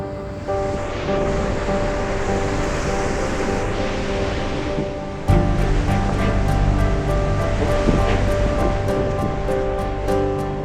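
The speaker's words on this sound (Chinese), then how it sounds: "我们到了第一个瀑布了，这里好大的水汽" A loud, steady roar of rushing water from a waterfall on Yosemite's Mist Trail during snowmelt, close and continuous, with the wash of spray thickening partway through; no voices.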